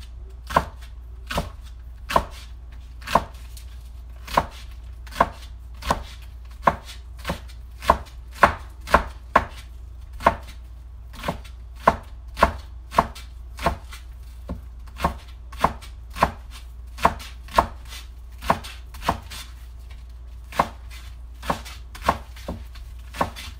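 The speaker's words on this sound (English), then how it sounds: "Cutting up green onions here," A knife chops green onions on a cutting board with steady, evenly spaced knocks, about two per second, loud and close, with no talking.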